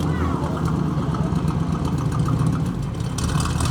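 A 1969 Chevrolet Camaro RS survivor with its original exhaust idles with a steady, deep, throaty rumble close by, while voices are faintly heard alongside.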